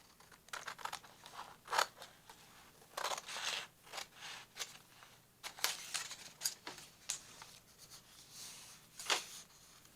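Paper is cut with a blade cutter inside a book, giving a run of crisp, scratchy cutting strokes, irregular and close, in a quiet room with no talking.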